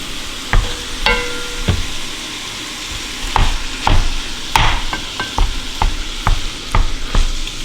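Chunks of 85-15 ground beef being broken up and stirred in a pot for Texas chili, with a steady low sizzle and repeated scraping, clattering utensil strokes at irregular intervals, close and fairly loud, no talking.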